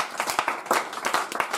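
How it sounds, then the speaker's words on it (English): A church congregation claps its hands in praise, giving loud, rhythmic and fairly close clapping with uneven bursts and no voices over it. "Let us clap our hands and give you."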